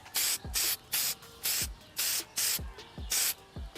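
Aerosol spray applies a light coat to a car headlight lens in a series of short, evenly spaced hissing bursts, each paired with a soft click, close and fairly quiet with no talking.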